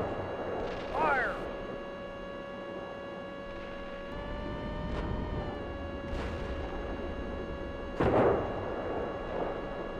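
A tank cannon fires in the Steel Beasts simulation game: two sharp booming shots several seconds apart over a constant engine drone, with a brief spoken command.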